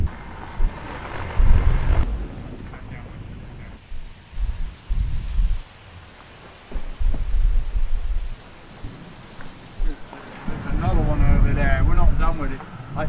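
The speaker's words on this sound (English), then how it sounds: "That's another squall. Whoa, that wind's just picked up." Strong wind gusting in a squall aboard a sailing boat, loud buffeting roars against the microphone in repeated surges, with rain-like hiss and voices speaking over it.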